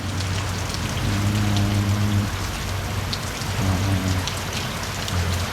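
Steady rain falls over a constant dense hiss, with scattered drops tapping on a surface and low hum or voices faint underneath.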